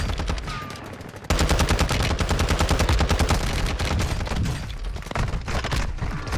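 Gunfire rattles through a shooter video game on the Vondel map, with rapid, loud automatic bursts hammering in dense, continuous strings and a brief lull before more shots resume.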